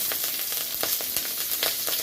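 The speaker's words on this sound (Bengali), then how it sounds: "মাছ ভাজার তেলেতেই আমি দুটো কাঁচা লঙ্কা দিয়ে দিচ্ছি" Green chillies frying in hot oil left from frying fish, a dense crackling sizzle with quick pops, close up and steady, no voices.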